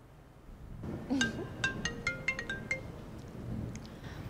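A mobile phone rings in a quiet indoor room, a melodic ringtone of repeated bright chime notes starting about a second in, with a faint vibration buzz and no talk.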